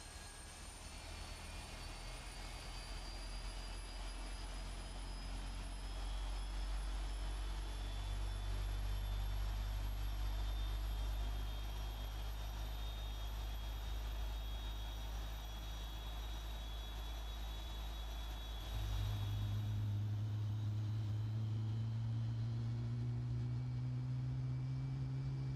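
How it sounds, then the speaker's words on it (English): Airliner jet engines spool up in a flight simulator, a steady low rumble with a rising high whine, swelling louder near the end as the engine note climbs in pitch. "We're now starting engines."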